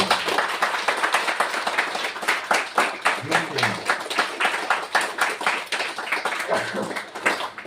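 Congregation clapping together in a church worship service praising God, a fast steady rhythm of loud, near hand claps lasting throughout, with voices occasionally mixed in.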